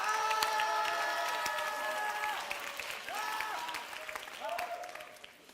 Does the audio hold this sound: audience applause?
yes